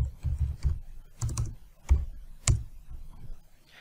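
Keystrokes on a computer keyboard arrive in several short clustered bursts with brief pauses between them, close and clear, with no talking.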